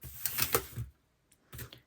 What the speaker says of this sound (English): snip that tiny bit off the end